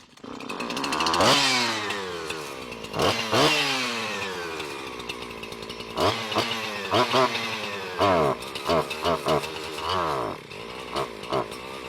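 An older Husqvarna chainsaw, just repaired, starts and runs close by with loud rising and falling revs, then a string of quick throttle blips that sputter back toward idle.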